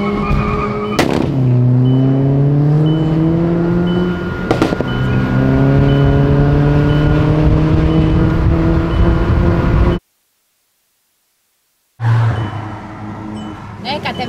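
A car revs and moves close by, its engine note climbing in repeated swells with harsh, loud broadband noise, then a brief full silence before the engine carries on.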